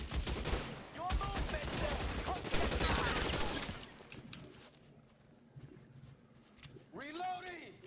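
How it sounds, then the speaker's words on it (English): A big gunfight in the crime video game L.A. Noire, with bursts of rapid gunfire and shots clattering for about four seconds before fading into quieter ambience, then a voice speaks briefly near the end. "Wow, we got a big gunfight going."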